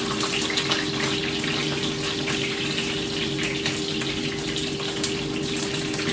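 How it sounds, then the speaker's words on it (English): Air fryer cooking fries and sausages in a home kitchen, giving a steady, continuous fan whoosh with a constant low hum, moderately loud and unbroken throughout, with no talking. "So the blue sound you're hearing is my air fryer there with my fries"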